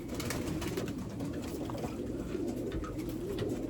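A racing pigeon coos steadily in a low, throaty, rolling pattern, close and continuous, with soft background rustle and no talking.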